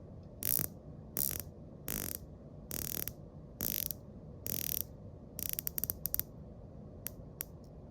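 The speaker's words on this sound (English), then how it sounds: "Just the sound of that dial, or the bezel rather, as you're turning it, just extremely clear." A Rolex Sea-Dweller Deepsea dive watch bezel is turned in a series of crisp, close ratcheting clicks, arriving in short bursts with brief pauses and then a quicker run of clicks near the end.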